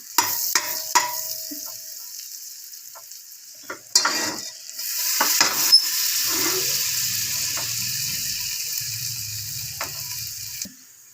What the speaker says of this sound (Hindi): जैसे ही लहसुन डालेंगे इसको थोड़ा सा हम पकने देंगे लहसुन को